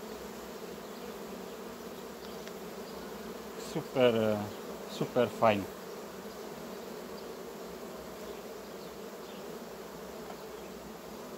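Honey bees of a red strain buzz around a hive frame in an apiary, a steady close hum throughout, while a voice briefly talks over it partway through.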